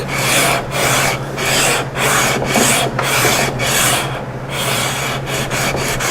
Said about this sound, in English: whenever you sand with these blocks